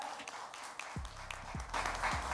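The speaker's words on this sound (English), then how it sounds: "let's make some noise and welcome them with a thunderous round of applause" Audience at a streaming series trailer launch event applauds, a fairly faint, sustained patter of clapping in a large room while a voice speaks over it with low thuds.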